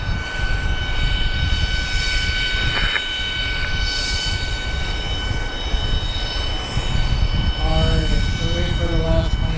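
Cargo airplane landing at Harrisburg airport at night, its engine drone a steady broad roar with tonal whines, while radio-style voices come and go over it.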